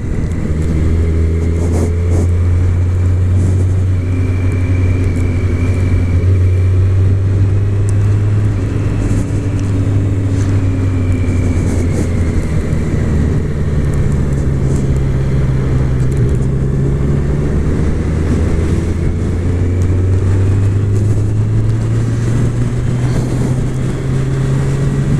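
A Kawasaki Z900 motorcycle engine hums steadily while riding along a city avenue, close and loud, its pitch slowly shifting as the rider eases through gears amid traffic and wind noise.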